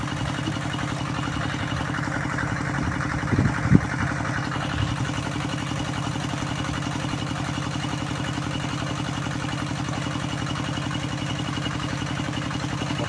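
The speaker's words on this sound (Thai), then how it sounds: "ใช้หัวรถไถ กับสายพานปั่นสูบน้ำขึ้นมาเนาะ" Tractor engine head driving a belt-powered water pump pulling water from a large pond into a rice field, droning at a steady mechanical idle, close and continuous, with a brief clatter early on.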